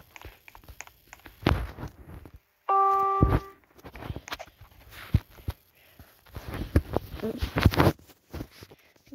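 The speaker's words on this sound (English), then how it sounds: "Just a doorbell." A doorbell gives a brief, clear two-tone chime midway through, between footsteps and shuffling movement nearby.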